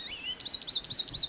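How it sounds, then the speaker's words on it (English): An American goldfinch call played as a recorded bird call in a Nancy Drew video game: a thin rising note followed by a quick series of bright, repeated chirps, clear and close over quiet background. "American goldfinch."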